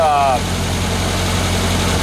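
A VW 1800 engine with chromoly push rods idles close by in a steady, even low rumble with a faint mechanical ticking, following a brief whine at the start as it fires up.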